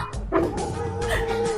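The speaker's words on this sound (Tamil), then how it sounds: "ஐயோ நாய் கடிக்குது." A dog barks and yips in a lively home scene, short sharp barks and whimpers close by over a busy background with people talking and household commotion.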